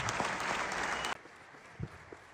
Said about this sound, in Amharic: ጭብጨባው ደግሞ ይህን ከፍ ያደርገዋል።